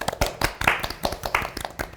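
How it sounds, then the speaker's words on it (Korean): Small group applause at a Korean futsal team-culture talk show, a few people clapping in uneven bursts, close and moderately loud, with no talk over it. "박수!"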